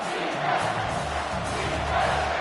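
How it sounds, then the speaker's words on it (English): A home crowd at a football game roars in a dense, sustained wash of cheering as the defense faces third down, loud and continuous, with no clear voice rising above it. "Here comes this home crowd as the defense tries to get off the field on 3rd down."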